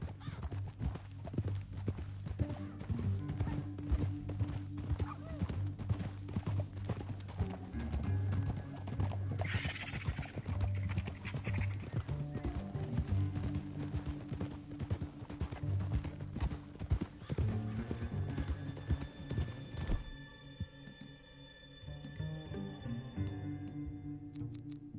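Horses gallop with steady, rapid clip-clop hoofbeats through Red Dead Redemption 2, close and continuous, with an occasional whinny and dense background game sound, before the hoofbeats drop away near the end.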